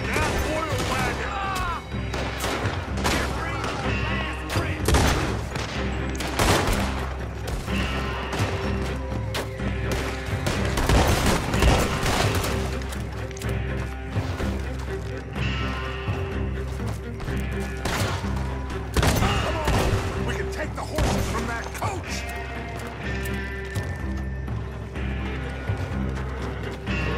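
Red Dead Redemption 2 shootout at Beaver Hollow, with repeated gunshots and crashes sounding over a constant dense wash of combat noise for the whole stretch, loud and close throughout.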